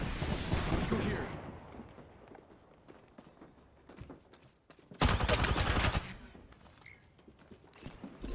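Gunfire in Apex Legends, a loud burst of shots at the start, scattered quieter fire, then a sharp heavy volley midway, with a player's voice in places.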